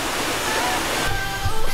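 Sakura no Taki waterfall in Hokkaido, a steady rushing roar of falling water that holds at a constant, fairly close level throughout the clip, with no clear pauses.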